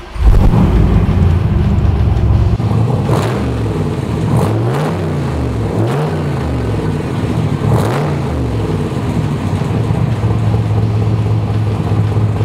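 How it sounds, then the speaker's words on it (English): A 1966 Chevrolet Corvette 427 big block roadster runs nearby, a deep loud idle broken by several sharp throttle blips and revs that climb and fall, then settling back to a steady rumble with no talking. "what does this thing, big block Corvette,"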